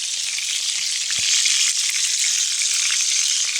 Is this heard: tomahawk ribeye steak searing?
yes